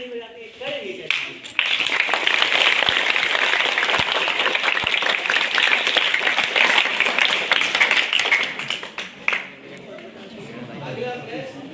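Children at a school general knowledge quiz on Indian rivers clap together in a sustained burst of applause lasting several seconds, with voices faint at the start and end.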